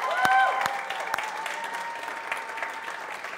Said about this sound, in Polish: I myślę, że należą im się brawa.